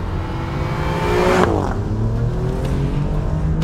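A 2020 Alfa Romeo Giulia Quadrifoglio revs hard, its engine rising to a peak, then shifting with a sharp drop before pulling again, heard loud and close.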